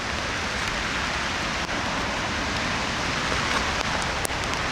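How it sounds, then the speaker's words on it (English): Heavy rain falling on an allotment in wet, windy weather, a dense, even hiss close to the microphone that carries on without pause. "it's raining that much"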